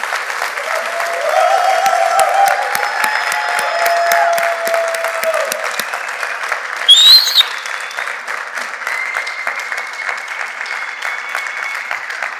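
Applause from an audience at an evangelical church sermon, a dense steady patter of many hands clapping for about twelve seconds at moderate loudness, with a faint hum and a brief louder burst near the middle.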